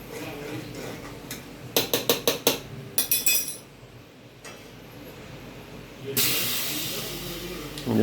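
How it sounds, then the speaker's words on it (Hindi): Indian-style tadka tempering for dal hits a hot pan with a sudden loud hiss and sizzle near the end, after a run of sharp clinking and tapping sounds from the kitchen. "ये लगा इंडियन स्टाइल तड़का।"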